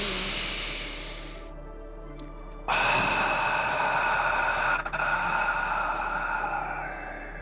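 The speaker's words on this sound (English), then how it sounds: "we're going to take 3 nice deep breaths in through our nose, exhaling through our mouth" A person takes a deep breath in through the nose and then lets it out through the mouth during a guided meditation, a soft inhaled hiss followed after a short pause by a fuller, steady breathy exhale, close and alone.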